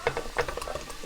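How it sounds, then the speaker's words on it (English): A spoon stirs a pot of fish and shrimp soup with carrots and tomato, giving a quick series of soft clinks and liquid sloshes, close and alone. "Let me give it a little stir."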